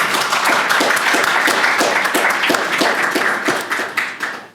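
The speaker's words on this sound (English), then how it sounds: "I think we should give her a round of applause." Audience applause at an academic symposium on Dante, a dense, steady patter of many hands clapping close and loud that carries for a few seconds before tapering off near the end.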